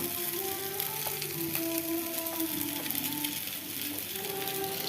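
Chow mein fries in a pan while being stirred, a steady close sizzle with scraping and tossing sounds throughout and no voices.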